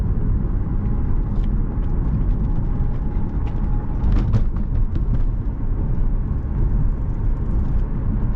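2007 Lexus GS350 merging onto a highway, heard as a loud, constant cabin roar of engine and road noise that stays steady throughout, with no talking.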